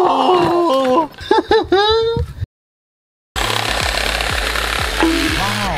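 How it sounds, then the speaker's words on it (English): A jigsaw cuts through wood during boat building, a loud, harsh, buzzing rattle that starts abruptly after a brief silence and keeps going, with voices and squeaky sound effects before it. "jigsaw!"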